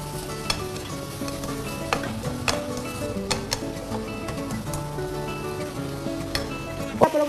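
Rice being stirred and mixed with black pepper powder in a hot pan, giving a steady sizzle with repeated scraping clicks from the spoon throughout. No one speaks.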